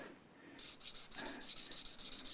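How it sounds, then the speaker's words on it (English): Hand sanding of a small part with sandpaper during a Fender MIM Stratocaster setup: steady back-and-forth scratchy rubbing strokes in a quick even rhythm, close and clear, starting after a brief quiet moment. "we're going to very carefully use sandpaper"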